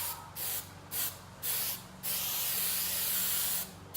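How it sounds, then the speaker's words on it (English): Aerosol spray paint hisses onto the back panel of a 2007 Mustang door in several short bursts, then one longer sustained pass and a final burst, each a loud, close, airy hiss. "I'm gonna start spraying this back panel first"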